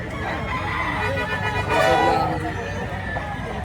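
Fighting cocks, bull stags offered for sale, crow and cluck close by amid a lively outdoor setting, with someone talking over the birds and a faint vehicle toot.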